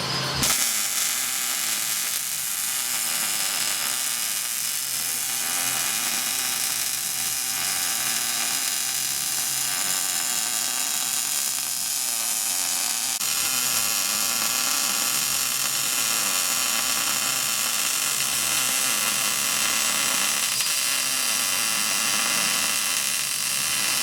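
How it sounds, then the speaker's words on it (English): Continuous welding on a C-notch reinforcement on a truck frame, a steady crackling, hissing arc that runs unbroken throughout, close and fairly loud. "and then he's gonna go around and weld the whole thing."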